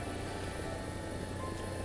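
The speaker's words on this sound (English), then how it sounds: "Landing a helicopter in simulator mode inside of a volcano." Helicopter in War Thunder simulator mode, landing inside a volcano, gives a steady droning rotor and engine hum with a constant buzzy tone throughout, moderately quiet.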